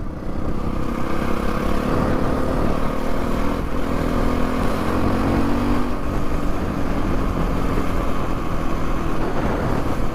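Several motorcycles on a group ride out of Sanga toward Dhulikhel, a mix including CF450, CBR650 and VR150 bikes, with engines droning steadily and loudly up close while the revs rise and fall throughout.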